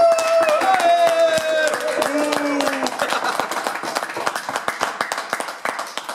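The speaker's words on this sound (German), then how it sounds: "3, 2 und 1. Und klatschen." A live audience at a football fan talk show claps together, a dense burst of handclaps that thins into scattered, uneven claps, with someone speaking over the start.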